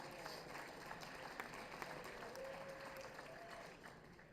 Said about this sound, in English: You don't have to clap, please.